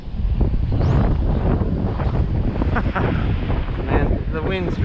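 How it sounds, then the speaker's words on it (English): Strong wind buffets the microphone on a beach in loud, continuous gusts, with a voice speaking briefly beneath the roar. "Man, the wind's ridiculous."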